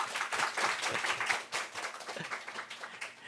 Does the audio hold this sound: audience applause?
yes